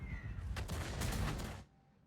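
An artillery shell lands in a tank video game, giving a dense burst of booming, crackling explosion noise for about a second and a half before it cuts off abruptly.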